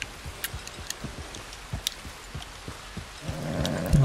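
Rain falls steadily at midnight in the video game Red Dead Redemption 2, with scattered drops pattering close by, a low rumble building toward the end, and no voices.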